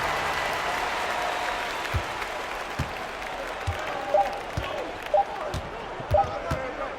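Crowd applause in an arena at a 1992 NBA basketball game between the Atlanta Hawks and Chicago Bulls, a broad steady wash of clapping with scattered ball bounces and sneaker thumps, while an announcer talks over it.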